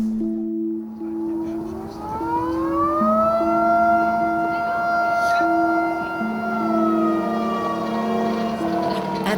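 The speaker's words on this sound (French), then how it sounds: "la sirène de la caserne retentit pour annoncer l'arrivée du premier concurrent" A fire station siren in Dawson, Yukon, wails long and loud, rising and holding a steady drawn-out tone, announcing the first finisher of a sled dog race.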